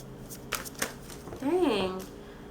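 A deck of playing cards being shuffled, heard as short papery riffle bursts near the start and end, with a voice exclaiming briefly over the middle.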